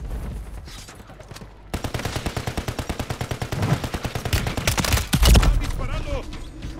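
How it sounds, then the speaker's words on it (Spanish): Call of Duty Warzone gameplay, with rapid bursts of automatic gunfire that crackle steadily and grow louder toward the end, plus a few heavier single shots, over faint background game sound. "¡Están disparando!"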